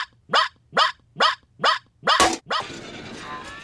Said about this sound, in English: Robo Puppy commencing 2-hour yipping session.